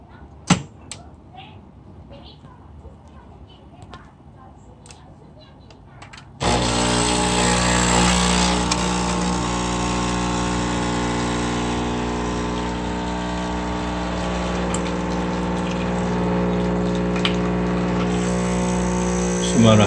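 A Nespresso Citiz coffee machine, with a capsule just loaded, starts brewing after a few faint handling clicks: a loud, close pump hum with a steady buzzing drone runs on without a break.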